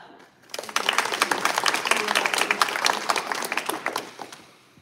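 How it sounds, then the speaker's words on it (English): A crowd claps for program mentors at an intern final presentations session, dense applause swelling quickly after a brief quiet start and holding steady before fading out. "so a round of applause for all of them."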